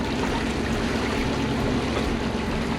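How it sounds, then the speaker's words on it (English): A sailing boat surfs waves back toward a jetty, giving a constant loud wash of rushing water and hull spray close by, with no pauses and no voices. "We are going back into the jetty, and we're surfing the waves in."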